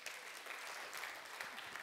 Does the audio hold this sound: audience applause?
yes